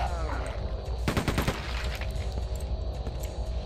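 Rapid automatic gunfire in the video game Quake 2, a dense burst of shots at about one to one and a half seconds over steady game ambience and music, followed by scattered quieter hits.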